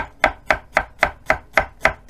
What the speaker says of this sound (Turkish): soğanımızı çok ince bir şekilde doğrayalım